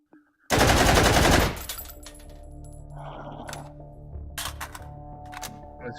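Rapid gunfire in the VR shooting game H3VR: a loud, dense burst of about a second, then metallic clicks, clatter and handling noises as the weapon is worked.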